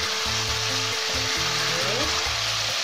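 Petai (stink beans) going into sambal udang, a prawn chili paste, frying in a pan: a loud, steady sizzle fills the whole moment, with low tonal hum running beneath it.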